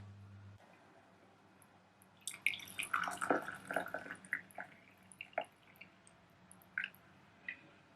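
Hot water trickles and drips into a simmer-pot mix of cinnamon and black pepper, faint irregular splashes and droplets in a quiet room.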